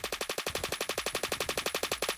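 Rapid sustained automatic fire from an AK-12 rifle in the Phantom Forces video game, a steady even burst of about twenty shots in quick rhythm, loud and alone.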